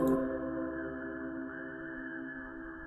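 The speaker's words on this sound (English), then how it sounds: "And it plays some radio sounds that I recorded from shortwave radio." Shortwave radio recordings play in a generative Ableton Live set as a faint, steady tonal drone with layered sustained hums, slowly fading, with no talk.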